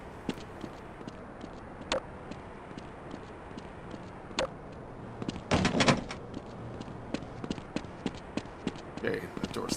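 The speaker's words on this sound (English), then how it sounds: "Okay, that door's locked." In the video game Half-Life, a locked door is tried, giving a brief rattling clunk partway through amid scattered sharp clicks and a low, steady room tone.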